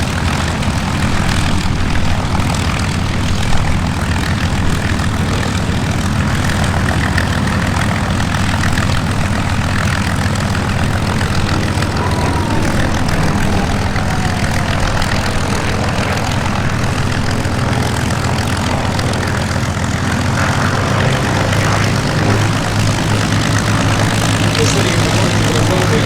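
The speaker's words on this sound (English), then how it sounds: "flying that P-51" A P-51 Mustang flies in a four-ship formation flypast at the Sywell airshow, its propeller engine droning steadily and loudly throughout, with a continuous low rumble and talk over it.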